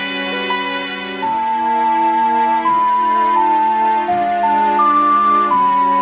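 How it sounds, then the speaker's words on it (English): A slow, mournful melody of sustained synthesized tones from the video game track "The Elegy of Emptiness", each note held before shifting to the next, playing loudly with no voices. "There's a song in the game called The Elegy of Emptiness"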